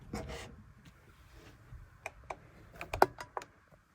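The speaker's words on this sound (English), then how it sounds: "Let's move these cards down" Tarot cards slide and tap on a tabletop as they are moved down: soft rubbing and light irregular clicks, faint and close, building to a few sharper taps near the end.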